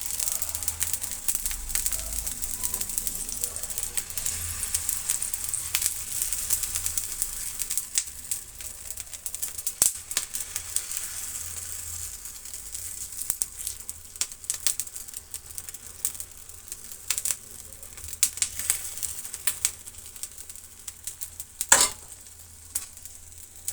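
Wheat flour masala roti batter spread on a hot pan sizzles and crackles steadily, with a constant bright frying hiss, occasional ladle scrapes and clicks, and one sharper tap near the end.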